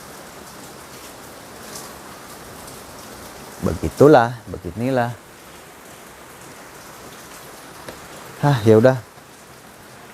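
Steady rain falls outdoors with a constant hiss throughout, and someone speaks briefly twice over the downpour.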